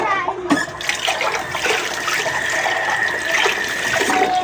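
Running water from a tap splashing steadily over dishes being washed in a sink, loud and close with occasional clinks, continuous throughout.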